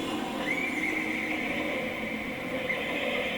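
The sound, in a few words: horse neighing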